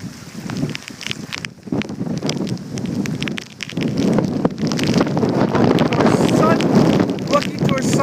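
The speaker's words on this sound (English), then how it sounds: "The wind's kicking up." Strong, gusty wind buffets the microphone at Wildwood Crest, New Jersey, on a street corner before Hurricane Sandy, a loud, continuous rushing roar that swells and dips throughout.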